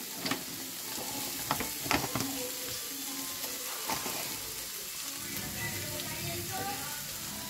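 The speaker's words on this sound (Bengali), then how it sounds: "এটাকে এবারে ভাজা মতন করবো" Pea filling for kochuri fries steadily in a pan, a continuous close sizzle broken by a few sharp scraping stirs and clinks.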